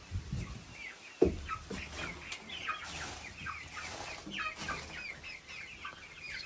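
A flock of little Swedish chickens clucks and chirps continuously in a new coop at morning, with one brief sharp knock near the start and a steady close chorus throughout.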